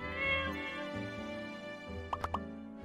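A cat in the video game My Time at Portia gives three short, quick meows near the end, set over steady background game music.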